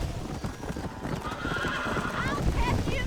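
In the Western game Red Dead Redemption, a horse gallops with fast, rhythmic hoofbeats and lets out a loud neigh toward the end, while a voice talks over the ride.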